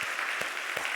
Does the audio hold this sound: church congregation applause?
yes